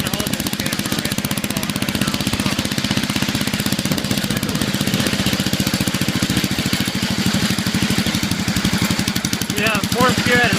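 A racing lawnmower engine, fitted to a four-wheeler frame, idles close by with a steady, rapid throbbing pulse that runs unbroken throughout.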